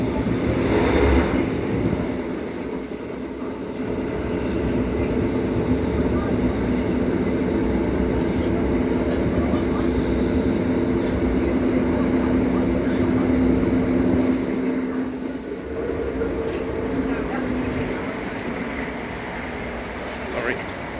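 Southeastern Class 707 electric train running between Charing Cross and Dartford via Bexleyheath, giving a steady loud interior rumble and hum throughout with a brief dip near the end.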